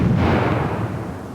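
Explosion in the retro time-travel adventure game The Journeyman Project Turbo, a single loud, deep blast that booms at once and then rumbles away over about a second.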